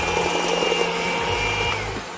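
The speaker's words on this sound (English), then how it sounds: "the first speed on your mixer should be slow enough that it's not splattering everything around" An electric stand mixer runs at low speed creaming butter and sugar for Persian saffron raisin cookie dough, a steady close motor hum with a faint high whine, slowing slightly toward the end.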